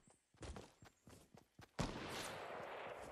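Video game gunfire: several sharp, spaced shots crack in an uneven rhythm, then give way to a sustained noisy burst, all faint and distant-sounding.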